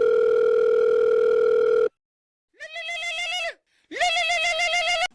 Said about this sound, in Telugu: ఉండు, ఆ ముఖేష్ గారికి అదుల్ గారికి ఫోన్ చేస్తా.